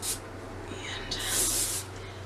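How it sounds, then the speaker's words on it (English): Hairspray sprayed from an aerosol can while pinning an Army bun, a short burst of hiss near the start followed by a longer, louder spray a moment later, close up in a quiet room. "Some hairspray."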